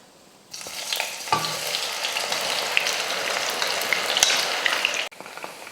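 Soaked soya chunks deep-fry in hot oil in a kadai, a dense crackling sizzle that starts abruptly after a short quiet moment and cuts off near the end, loud and close with no talking.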